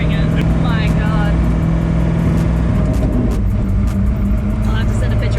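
A Ford GT40 sports car's engine roars loudly and steadily from inside the cabin during a ride-along, a constant dense drone with slight shifts in pitch.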